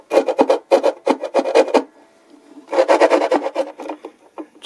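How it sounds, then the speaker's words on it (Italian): A hand file rasps against wood inside a potentiometer hole on a semi-acoustic guitar, in quick rhythmic strokes arriving in two bursts separated by a short pause, close and clear. "io vado tutto attorno così con la lima per portare un po' più, asportare un po' più di materiale internamente"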